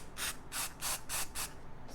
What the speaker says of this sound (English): and I'm just gonna spray like this